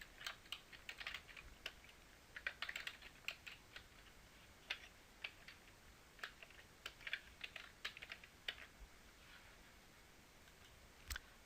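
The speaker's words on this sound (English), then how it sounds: "And then I'm going to type in the title." Quiet typing on a computer keyboard, with irregular light clicks and short runs of keystrokes continuing steadily for about eleven seconds with no speech.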